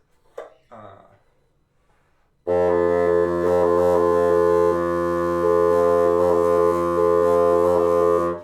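A brief breathy sound, then a sustained reedy woodwind multiphonic on low F using timbre fingerings, with layered, shifting overtones, holding one low pitch while its colour changes subtly.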